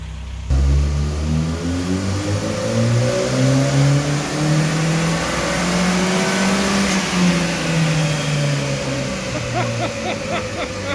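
A Toyota Corolla engine revs hard on a dyno in third gear, a loud, steady rising engine roar with climbing harmonics that peaks, dips and climbs again, running continuously to the end.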